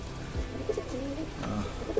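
Domestic pigeons kept in a coop give soft, throaty coos close by, several low rolling calls overlapping against quiet surroundings, with no talking.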